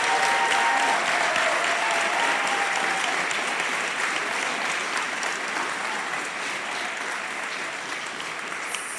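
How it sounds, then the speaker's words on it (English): Sustained applause from a crowd at a school board meeting, honoring student athletes, loud and continuous for about nine seconds without letting up. "Can we have one final round of applause for all of our student athletes?"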